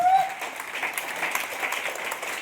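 An audience at a training session applauds, a moderate, continuous patter of clapping that carries on for a couple of seconds after a brief voice at the start.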